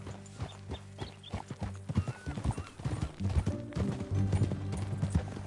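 Horse hooves clip-clopping and a horse neighing in the video game Red Dead Redemption 2, close and fairly loud. Irregular hoof beats build into a steadier gait, and a whinny rises partway through.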